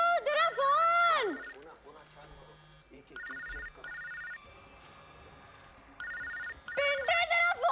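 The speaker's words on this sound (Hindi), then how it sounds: "तेरा फोन बज रहा है यार" A mobile phone rings in electronic ringtone bursts, loud at the start and end with a quieter stretch between, amid background voices and scene sounds.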